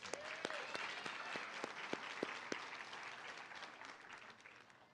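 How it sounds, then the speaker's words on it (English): A nursing graduation audience applauds, a steady wash of many hands clapping with a few sharp, louder claps standing out near the start, heard from some distance in a large hall and tapering slightly toward the end. "Again, please help me welcome them all with a round of applause."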